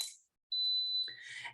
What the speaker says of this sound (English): that beep is telling us that the chicken is done